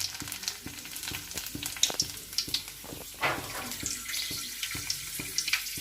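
Curry leaves hit hot oil and fizz in a steady, close crackling sizzle, with regular light tapping clicks running underneath throughout.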